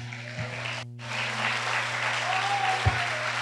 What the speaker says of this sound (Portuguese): aplauda essa linda